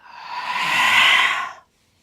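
A single long, breathy exhale during yoga breathing practice for the abdominal lock, rising and holding steady for about a second and a half before cutting off abruptly into silence; close and alone.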